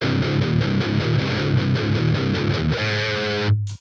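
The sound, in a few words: guitar distortion effect on Vox ToneLab EX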